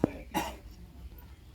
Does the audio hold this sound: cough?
yes